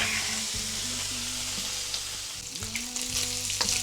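A Chinese stir fry sizzles in a pan in a home kitchen, a close, bright crackle with a low steady hum underneath and a few sharp clinks and scrapes near the end, with no voices.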